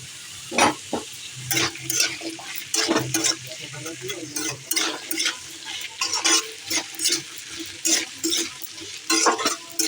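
Potatoes stirred and frying in a pan, with repeated scraping strokes over a steady sizzle, close and fairly loud in an uneven rhythm.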